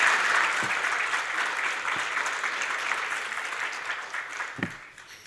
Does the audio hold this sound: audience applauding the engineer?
yes